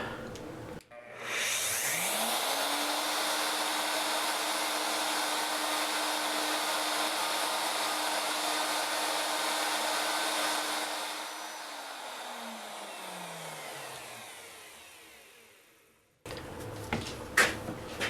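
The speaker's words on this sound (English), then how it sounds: "got everything cut that I can cut with the router" A router hogs out a mortise for inlays in a wooden leaf-shaped box lid, a loud steady motor whine spinning up, cutting for about ten seconds, then winding down before faint workshop clatter.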